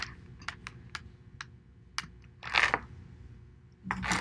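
A computer mouse clicks at the close dispatch button, sounding as a run of sharp, separate clicks spaced unevenly in a quiet room, with a couple of louder clatters near the end.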